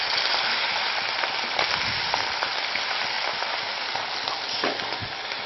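Fish frying in a pan for meen pollichathu, a dense, steady sizzle of hot oil heard up close, with occasional faint clicks and stirring touches.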